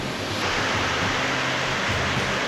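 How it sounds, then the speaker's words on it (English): Amicalola Falls, the tallest waterfall in Georgia, pours with a steady, loud broadband roar heard up close along a hiking trail, with no voices over it. "This is Amicalola Falls. Tallest waterfall in Georgia."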